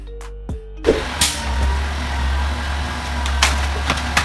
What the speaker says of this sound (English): This is a grapple garbage truck fitted with a strong hydraulic claw used to pick up bulky or irregular waste